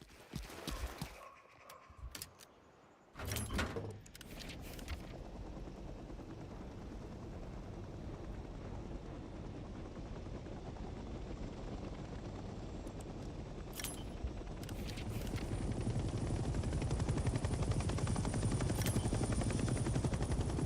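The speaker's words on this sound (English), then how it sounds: "Let's start by getting in the pilot seat and turning the engine on." A military helicopter in the Vietnam-era shooter Hell Let Loose Vietnam starts up, its engine noise rising from a brief click and whine into a steady, building turbine roar that grows louder over about twenty seconds.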